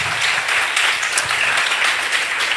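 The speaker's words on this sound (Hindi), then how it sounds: "एक अच्छी ताली के साथ" A congregation at a Hindi-language Christian prayer gathering gives a round of applause after a prayer, a loud, even wash of many hands clapping continuously.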